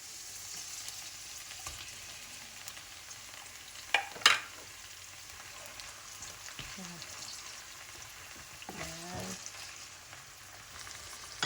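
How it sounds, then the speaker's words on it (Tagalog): Sardines sautéing in a pan for a Filipino fern dish, giving a steady low sizzle throughout with a couple of sharp clanks from a utensil against the pan. "Ngayon po, isunod po natin itong igisa yung sardinas."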